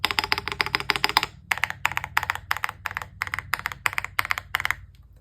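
Close-up mechanical keyboard typing on KeyTok keycaps over mint ice cream switches, a flurry of keystrokes followed by evenly spaced bursts of clacks in a steady rhythm, no voices.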